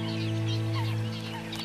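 Honking calls of a swan family in fog ring out over steady background noise, a few loud nasal notes close by, with a low constant hum underneath.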